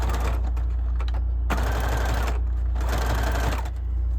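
A sewing machine runs a zigzag stitch along a fabric edge, with stitch length near 2 to 2.5 and width at 4. Close and steady, it whirs in rapid bursts with brief pauses between runs.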